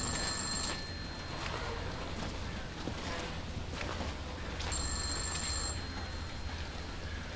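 A telephone rings in a video game, with two distinct bursts of high ringing tones, one at the start and one midway, over a noisy, wind-like ambient background.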